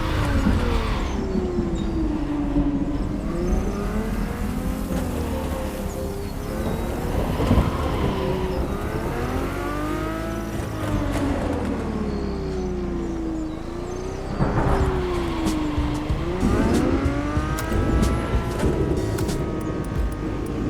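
Ferrari F40 and F50 supercar engines in The Crew Motorfest, loud revving that rises and falls through gear changes, with wind rush and sustained engine roar throughout.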